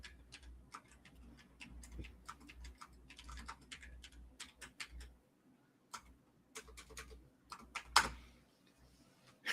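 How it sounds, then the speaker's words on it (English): Quiet typing on a computer keyboard, with irregular clusters of soft key clicks and brief pauses, faint and close, with a low background hum. "Do you hear me typing?"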